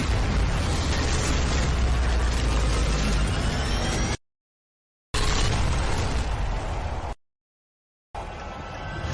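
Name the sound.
explosion of a traitor disciple blowing himself up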